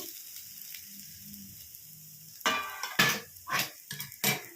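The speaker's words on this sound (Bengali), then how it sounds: "এটা ভালো করে নাড়িয়ে নেব।" Papaya stirred in a pan: a quiet low simmer gives way to several close, sharp scraping and clinking strokes with sizzling bursts, arriving in an uneven rhythm.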